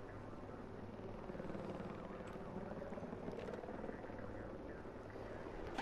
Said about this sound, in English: I got two helicopters left.